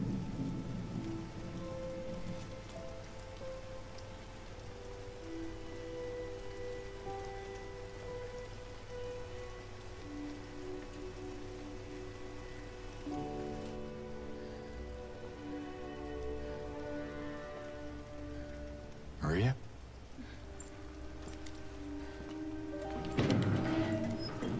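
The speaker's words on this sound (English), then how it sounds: "And it's raining." Rain patters steadily in the Silent Hill 2 Remake while a low game ambience drones underneath, broken by a couple of sudden thunder cracks late on, with no one speaking.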